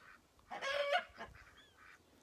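Farm geese honk near their house, a loud cluster of nasal calls followed by a few fainter honks, with no talking.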